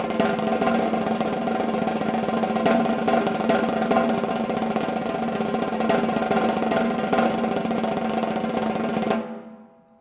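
Snare drum buzz strokes played steadily, the first measure accented and the second unaccented, a dense continuous press-roll texture sustained for about nine seconds before stopping, close and fairly loud with no talking.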